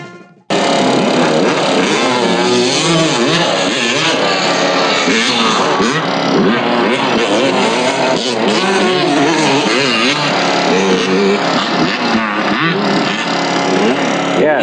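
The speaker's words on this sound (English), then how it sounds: "they're graciously blasting their dirt bikes next to all these people camping" Dirt bikes buzz and rev continuously near a campsite, a loud warbling engine drone that rises and falls in pitch without pause.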